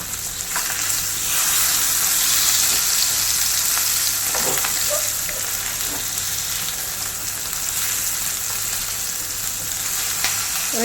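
Kerala-style fish fries in a pan over a low flame, a loud, steady hissing sizzle with occasional soft stirs and pops, close up and uninterrupted by speech.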